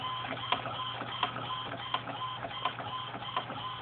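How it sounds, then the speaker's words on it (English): An Epson WorkForce 840 inkjet printer with its print head arm shuttling back and forth, a steady mechanical whir with a low hum and regular clicks about every 0.7 seconds, close and alone. "you notice the arm of this printer moves with the ink"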